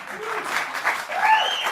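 Studio audience on a late-night TV talk show breaks into loud, sustained clapping and cheering, filling the room for a couple of seconds with a bit of voice mixed in.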